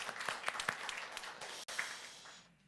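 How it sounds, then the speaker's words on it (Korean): A church congregation at a Sunday worship service claps for a young member home on military leave: dense, steady applause that tapers and fades out toward the end. "우리 박수 한번 해줄까요?"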